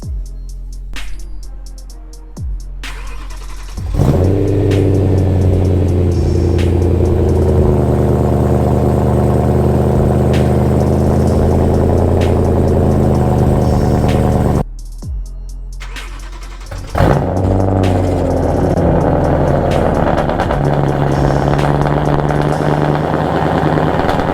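A straight-piped BMW E92 M3 engine cranks and fires into a raspy, droning idle with occasional revs, cuts off, then restarts and rumbles on, close and unmuffled.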